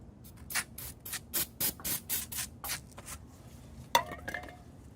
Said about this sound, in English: this parts cleaner is great. It's a chlorinated formula, dries very quickly, doesn't leave any residue, comes out really strong stream.